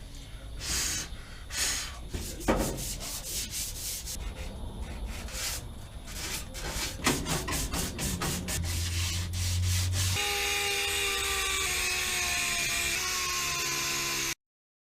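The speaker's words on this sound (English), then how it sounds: "Do you see any spots on the dash that you wanted sanded more?" Close, steady hand sanding scuffs gray paint on a 1965 C10 truck dash, a rough rubbing hiss with rhythmic strokes, before music takes over the final few seconds.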